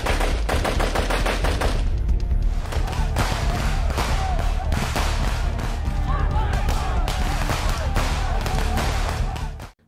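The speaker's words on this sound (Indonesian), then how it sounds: "akhirnya aksi baku tembak pun gak bisa dihindarkan" Gunfire in a film shootout, rapid loud bursts of shots and thumping impacts crowding together near and far, with voices heard briefly amid the firing.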